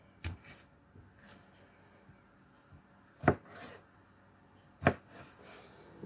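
A few sharp, isolated knife chops through tomatoes on a cutting board, spaced irregularly with quiet pauses between them, close and fairly crisp.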